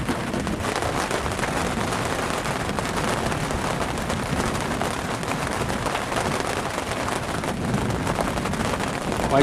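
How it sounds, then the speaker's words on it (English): Steady rain pours down during a lightning-filled thunderstorm over an outdoor rendezvous camp in Raton, New Mexico, a dense, continuous hiss holding even loudness throughout with no talk. "And rain, of course."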